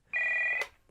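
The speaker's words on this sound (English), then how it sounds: "The phone is ringing." A telephone rings once with a short, bright electronic tone that cuts off abruptly, close and clear in a quiet room.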